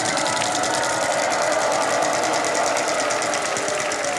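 A prize wheel spins on a Hindi celebrity game show, giving a rapid, even run of ticks over a steady whir that holds at constant loudness for about four seconds.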